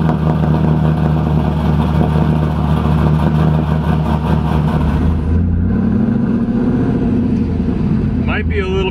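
A car engine hums steadily from inside the cabin while driving, a loud low drone with a slight shift in pitch partway through as the vehicle changes speed.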